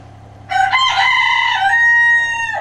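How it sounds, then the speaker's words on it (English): A small bantam rooster crows once, close and loud, a strained high-pitched call held for about two seconds over a low background hum in a barn. "he's not even a real rooster, he's a banty"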